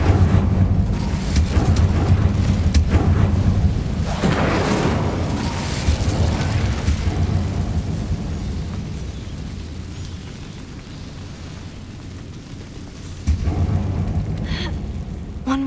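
A fiery Incendio spell blast cast in the Hogwarts Legacy wizarding video game, a loud booming burst with rumbling roar that fades over several seconds, followed by a second swelling blast near the end.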